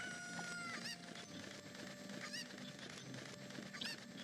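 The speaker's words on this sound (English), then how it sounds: "Come here, little chicken." Cucco chickens in the Zelda Ocarina of Time video game cluck and squawk in repeated bursts over a steady game backdrop, with no talking.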